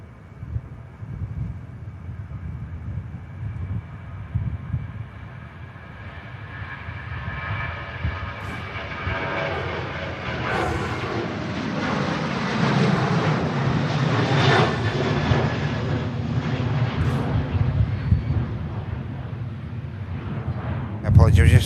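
A jet airliner departs Manchester Airport, its engine roar swelling gradually from a distant rumble into a loud, broad rushing sound with rising whine, as a voice speaks intermittently over it.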